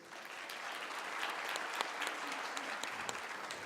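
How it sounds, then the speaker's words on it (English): Steady applause from a conference audience, fairly faint and even, with no voices over it. "give him a round of applause"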